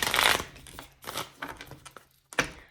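Tarot cards shuffled by hand in a few quick riffling bursts, close and fairly soft, with short pauses between the bursts and no talk.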